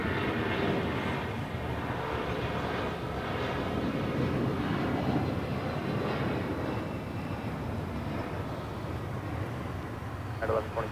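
A United Boeing 757 airliner rolling for takeoff at LAX, a steady, loud jet roar and rumble sustained throughout at a distance, with some talk mixed in.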